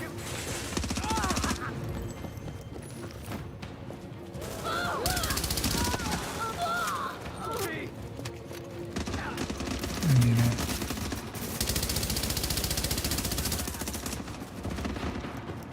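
Bursts of automatic gunfire in The Division, a third-person shooter, crackle through a noisy firefight, with repeated volleys rising and falling and a voice talking over parts of it.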